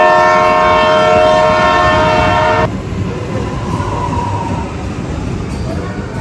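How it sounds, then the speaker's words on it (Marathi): A passenger train pulls into a station near a dam, its loud horn blaring steadily for a few seconds before cutting off, leaving the heavy rumble and rolling noise of the arriving carriages. "ट्रेन आली आहे"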